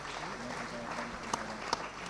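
Brief applause from an audience at a national financial literacy quiz greets a college team, soft and steady clapping with a murmur of voices and a couple of sharp knocks.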